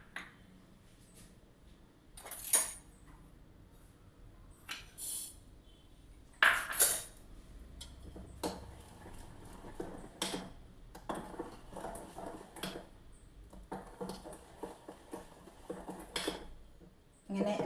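Vattappam batter is stirred in a bowl, giving quiet, scattered clinks and scrapes of a utensil against the bowl, separated by soft gaps with no talking.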